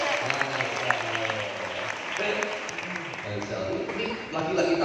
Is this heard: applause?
yes